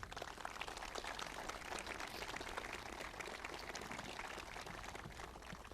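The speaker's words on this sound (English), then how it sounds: "join me in giving a round of applause for that outstanding military" Sustained audience applause fills a National Citizenship and Flag-Raising ceremony after a military display, a steady dense wash of many hands clapping at moderate distance, even and unbroken throughout.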